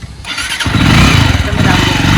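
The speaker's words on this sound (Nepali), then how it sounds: "यो चाहिँ मेरो नयाँ बाइक है, अस्ति भर्खरै किनेको।" A newly bought motorcycle starting, with a short crank that catches into a loud, close engine running steadily, while a voice talks over it.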